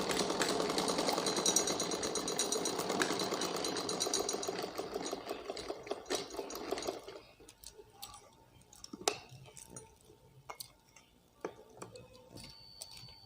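A sewing machine stitching an umbrella frock runs fast and steady with a dense mechanical rattle for about seven seconds, then stops, leaving scattered clicks and light handling taps of the fabric.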